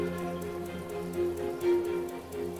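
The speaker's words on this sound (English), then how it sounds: "more than 100 trillion liters of rain swallow the Kafue Basin" Heavy seasonal rain falls on the Kafue Basin swamplands, a faint, steady patter of drops under a sustained low tonal drone.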